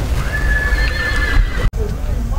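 Horse neighing at a horse show with draft-pulling and beauty contests in Gilău, a long high whinny over a noisy outdoor crowd, followed by a brief dropout and continued background murmur.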